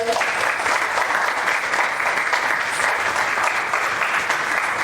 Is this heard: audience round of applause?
yes